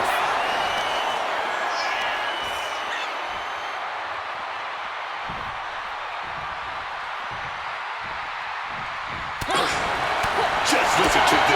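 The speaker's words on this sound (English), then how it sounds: "Just listen to this crowd." Crowd cheering at a WWE 2K26 wrestling match, a steady loud roar of the arena audience throughout, with a sharp impact and louder surge near the end.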